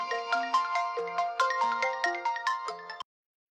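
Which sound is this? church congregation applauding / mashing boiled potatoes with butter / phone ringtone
phone ringtone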